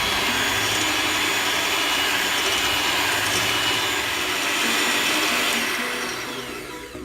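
Egg whites and yolks, four eggs in all, are whipped together with an electric beater for a Kerala-style carrot cake. A loud, steady motor whir runs the whole time and eases off slightly at the end.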